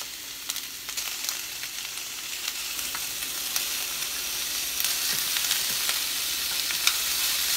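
Cabbage and canned tuna in olive oil sizzle steadily in a pan while being stirred, a constant close frying hiss broken by occasional scraping clicks of the stirring utensil.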